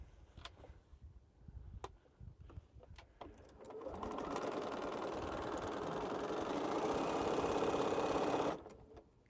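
Sewing machine stitching quilt pieces together for a four-patch block, starting with a few faint clicks and handling noises, then a steady, fairly loud mechanical whir runs continuously for several seconds before stopping abruptly.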